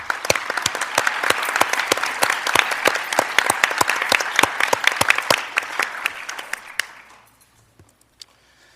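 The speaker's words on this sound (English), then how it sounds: "Let's give these kids a round of applause" An audience at a Belton ISD school board meeting applauds for children, with brisk, even clapping for about seven seconds before it fades to near silence.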